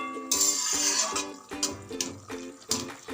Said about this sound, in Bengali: এবার সর্ষে গোলা জলটা দিয়ে দেব